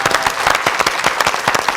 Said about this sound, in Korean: 여러분 저 선생님 열심히 활동하시라고 큰 박수 보내드리시겠어요?